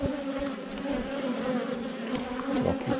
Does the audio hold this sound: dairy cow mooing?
no